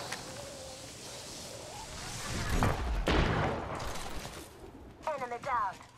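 Gunfire from an Apex Legends match crackles through a busy game mix, with louder shot bursts around the middle and a voice speaking near the end.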